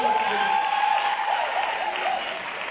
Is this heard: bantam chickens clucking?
no